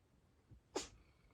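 A single quick sneeze, short and fairly close, rising sharply out of a quiet room with a soft faint sound just before it and nothing spoken.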